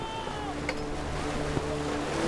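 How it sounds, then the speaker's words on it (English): Wind and sea swell around a sailing ship in a period naval drama, a steady rushing wash with creaking and faint tonal whistles, heard close and continuous. "The wind's getting up again."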